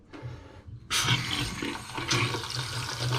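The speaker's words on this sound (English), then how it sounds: "Okay, we turned on the water." A bathroom faucet suddenly gushes on after a short quiet stretch, then runs steadily and loudly close by, a broad hissing splash into a sink.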